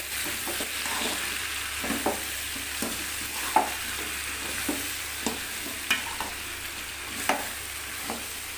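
Egg gravy cooks in a pan, a soft continuous sizzle under regular scraping strokes of a spoon stirring, the clicks and knocks spaced about every second, fairly quiet and close.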